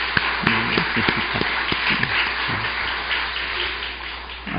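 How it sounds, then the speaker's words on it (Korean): A church congregation applauds newly ordained officers during a Korean service, a dense steady wash of clapping filling the room for several seconds, with a few sharper individual claps and faint voices underneath. "한번 박수로 우리 축복했으면 좋겠습니다"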